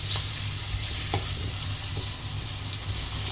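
Potato pieces fry in hot oil with turmeric, a close, constant sizzle with occasional soft scraping taps as they are stirred around the pan, no voices present.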